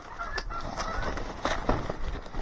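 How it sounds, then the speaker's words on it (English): Several turkeys on a farm in Alaska give repeated honking, gobbling calls close by, a steady outdoor bird chorus with a few louder bursts and no talking. "These are my turkeys"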